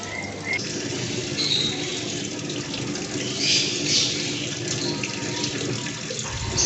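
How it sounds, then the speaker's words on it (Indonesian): Water pours steadily into the tub of a Sharp ES-M8500XT-SA washing machine, a continuous close rushing and splashing that holds at even loudness throughout. "maka akan otomatis airnya keluar ke tabung mesin cucinya"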